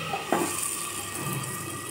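Water poured from a vessel into a cooking pot of fish curry, a short splashing pour near the start followed by a quieter trickle against faint kitchen background.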